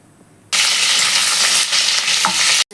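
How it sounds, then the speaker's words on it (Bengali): Paneer dropped into hot white oil in a wok bursts into a loud, sudden sizzle that holds steady for about two seconds with a brief clink, then cuts off abruptly. The sizzle is close, and no talking is heard. "প্রথমে আমি পনিরটাকে একটু হালকা করে ভেজে নেবো"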